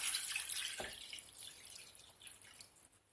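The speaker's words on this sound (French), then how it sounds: "Donc je vais rajouter l'eau. Donc on va mettre l'eau à couvert." Water poured into a cooking pot to cover chicken and vegetables, heard as a faint, close trickle and drip that fades slowly, with no talking.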